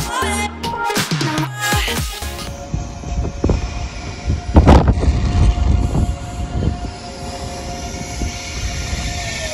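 An ICE high-speed train at a station platform in the Netherlands rumbles and hums loudly close by, with a brief clatter at the start, a sharp metallic screech midway, and a steady rolling drone throughout.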